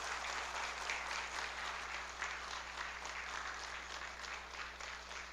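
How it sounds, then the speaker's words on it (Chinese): A church congregation claps together in welcome during a Sunday service, a steady, even patter of many hands at moderate distance with no voices over it. "我们来拍手欢迎他们加入我们的教会"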